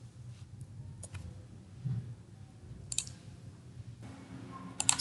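A few soft, sparse computer mouse clicks, made while downloading a pattern file, sound against faint low background noise, with a slightly louder click near the end.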